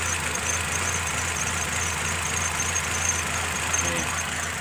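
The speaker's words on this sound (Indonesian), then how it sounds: "Ini ada Nissan X-Trail. Suaranya pincang nih bos." A Nissan X-Trail engine idling roughly and vibrating, a misfiring idle: a steady, close mechanical drone with a low, uneven throb running alone throughout.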